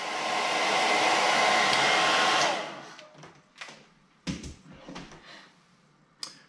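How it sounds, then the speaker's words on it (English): A hair dryer blows loudly and steadily for a couple of seconds, heating shrink tubing on a USB Lightning cable repair, then cuts off, followed by a few scattered clicks and handling sounds. "With just applying the heat of the hairdryer, it shrinks that tubing down"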